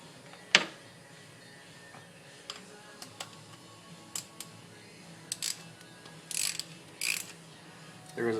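Ratchet clicks while tightening a spark plug on a 2005 Toyota Tundra 4.7L, sparse short bursts of clicking spread out over quiet shop ambience.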